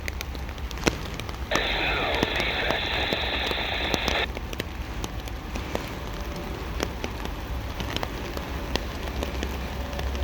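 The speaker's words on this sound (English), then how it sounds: "another wave of thunderstorms came through" Steady rain patters on a surface throughout, a constant soft hiss with occasional sharper drops; a brief tonal hum passes partway through.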